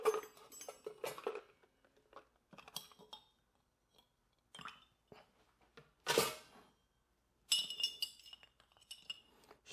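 A cocktail glass holding a large ice rock in a banana bread Old Fashioned with black walnut bitters is stirred, giving light clinks and rattles of ice against glass in short bursts separated by quiet gaps, with no talking.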